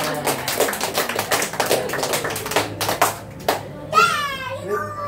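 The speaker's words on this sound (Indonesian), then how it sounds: "Terima kasih, tepuk tangan." A class of children claps, rapid scattered hand claps in bursts, loud and close, mixed with children's voices chattering and someone speaking at the end.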